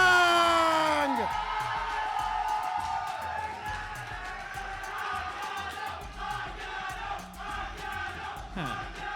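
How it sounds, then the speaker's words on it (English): A crowd at a Smash Bros. tournament final in Cancún cheers and whoops wildly, a loud roar that swells then settles into sustained shouting, with an announcer's amplified voice over it. "the crowd is just going wild for Anguiano"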